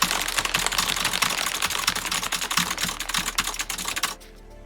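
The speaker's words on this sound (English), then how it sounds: "I'm just spamming Control and Shift because they're the only safe keys to spam." A computer keyboard clatters under rapid, dense keystrokes as the Control and Shift keys are spammed during a coding livestream, loud and continuous before stopping abruptly near the end.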